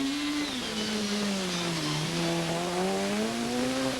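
A Toyota rally car at the 1995 Ypres Rally in Belgium roars past with hot brakes, its engine note sweeping up and down steadily and loudly over four seconds, continuous and close, with no voices.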